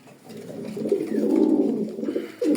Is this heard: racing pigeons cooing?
yes